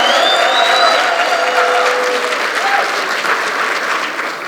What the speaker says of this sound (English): Can you please give our hype man a round of applause?